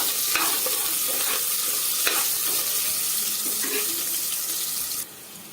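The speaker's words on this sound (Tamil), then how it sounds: "இப்போ நல்லா வதக்கி விட்டுறலாம்" Sliced small onions and curry leaves sautéing in hot oil for a Tamil mutton curry, a steady sizzle with occasional scraping stir strokes from a spatula, continuous and close, then dropping abruptly softer near the end.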